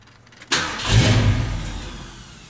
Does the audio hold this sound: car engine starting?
yes